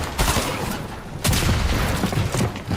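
Burst SMG fire in the Fortnite video game, with dense, continuous booming shots and explosive impacts packed over a loud, noisy game soundscape.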